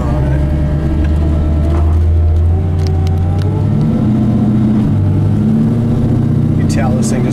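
LS-powered 1980 Camaro with a 4-speed automatic on the move, its engine droning loud and close with a smooth rise and drop through a gear change, road rumble underneath and someone talking over it.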